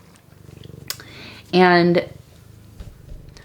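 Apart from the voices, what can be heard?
cat purring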